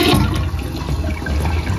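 A household toilet with toothpaste left sitting in its tank flushes loudly and close, a steady rushing gush of water for about two seconds.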